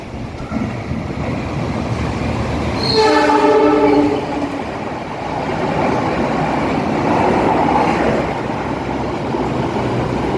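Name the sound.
Joglo Semarkerto passenger train passing with horn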